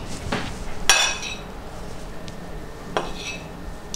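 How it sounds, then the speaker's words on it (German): Spices being added to a pot on the stove while making chai latte, heard as a few sharp metallic clinks and taps against the pot, close and spaced out over near silence. "jetzt geben wir erstmal die Gewürze hinzu"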